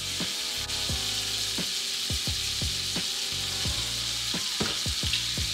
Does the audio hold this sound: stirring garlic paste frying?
yes